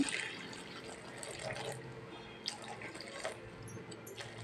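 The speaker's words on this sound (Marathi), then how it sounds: "आता पाणी ओतते" Hot water trickles and drips faintly into a bowl of chakli flour dough, a soft liquid pouring sound with a few small splashes, quiet and close.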